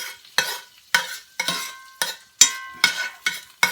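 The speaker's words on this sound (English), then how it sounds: "Right now, I'm just browning the onion, caramelizing the onion and the garlic right here." Onion and garlic browning in a hot pan for beef and broccoli, with about eight sharp scrapes of a utensil stirring through them over a steady sizzle.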